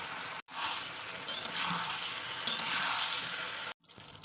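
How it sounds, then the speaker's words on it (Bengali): Chicken with powdered spices including garam masala sizzling and being stirred in a pan for a Bengali pea-and-chicken curry, a steady close frying hiss with scraping stirs, briefly cut to silence near the start and end. "তো মশলাগুলো দেওয়ার পর আবার কষিয়ে নেবো একটু"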